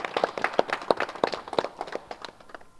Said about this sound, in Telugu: ఒకసారి గట్టిగా మనం చప్పట్లు కొడదాం ఈ పిరమిడ్కి.